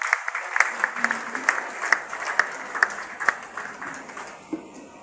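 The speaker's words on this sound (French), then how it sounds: "est-ce qu'on peut applaudir pour la gloire de Dieu?" A church congregation applauds in praise, steady scattered clapping with sharp individual claps standing out, moderately close and continuing throughout.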